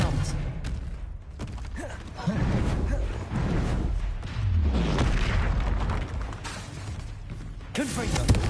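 In Hogwarts Legacy, Confringo blast spells go off in repeated booming thuds amid chaotic combat effects, with a voice speaking over them.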